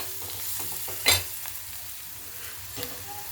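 Spices being stirred in a hot cooking pan, a soft steady sizzle with a sharp scrape or clink near the start and a few lighter stirring touches after, no talking.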